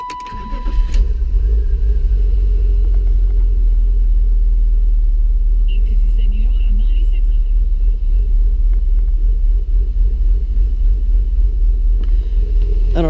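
A 1992 BMW engine cranks and catches, then settles into a loud, rumbling idle that runs nearly level throughout, with only slight rises and falls. A faint clatter sits in the background, and no one speaks.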